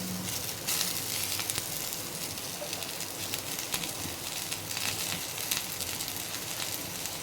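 Onions sizzle in a hot kadai for aloo kofta curry, giving a steady, dense crackling fry that holds at an even level throughout with no voices.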